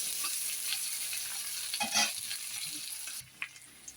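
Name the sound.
onion frying in oil with nigella seeds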